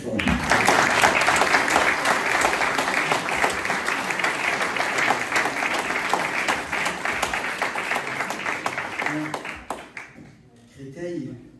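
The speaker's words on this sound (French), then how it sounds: "je voudrais que toute la salle vous applaudisse très fort" A hall full of people breaks into dense, loud applause that rolls on for around nine seconds, then thins out quickly as a voice takes over.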